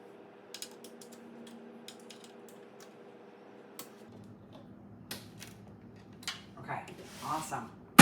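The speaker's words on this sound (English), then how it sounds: "Let's get this little screw in down here." A small screw being driven into a craft cart, heard as close, repeated ratcheting clicks and creaks from a hand tool, followed by rattles and handling knocks near the end.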